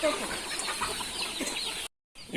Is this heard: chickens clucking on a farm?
yes